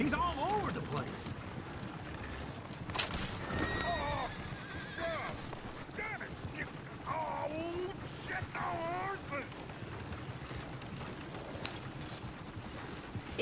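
Horses in the Red Dead Redemption 2 video game whinny repeatedly over a steady clip-clop of hooves. Several wavering neighs rise above the hoofbeats, and voices talk underneath throughout.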